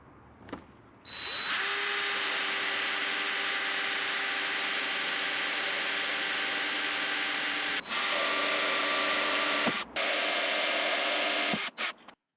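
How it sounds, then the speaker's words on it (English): Power drill boring a hole in a VW T5 bumper while fitting retro-fit parking sensors, a steady loud whine running nearly continuously for about ten seconds, with two brief pauses and a stop near the end. "Let's go for it and actually drill."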